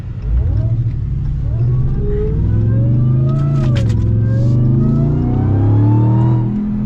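A Ram TRX Hellcat pickup truck engine revs and accelerates hard, a loud sustained roar with rising and falling pitch as it pulls away in traffic, heard from close range.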